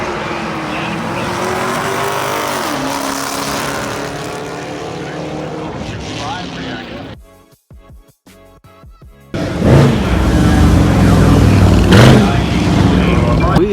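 A Camaro SS's loud engine roars steadily at a drag race, cuts out briefly, then surges back in at full volume.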